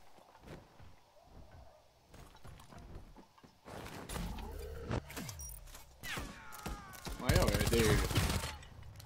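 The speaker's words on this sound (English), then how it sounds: "What is he shooting me with, bro?" Bursts of video game gunfire crackle through the second half, building louder near the end amid other clattering game sounds, with a voice speaking over it.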